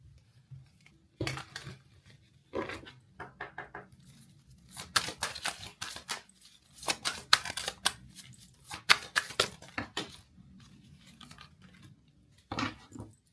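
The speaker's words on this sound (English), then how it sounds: "as I was shuffling the deck" Repeated crisp riffling and slapping bursts of cards being shuffled, coming in quick clusters with short pauses, close and fairly quiet.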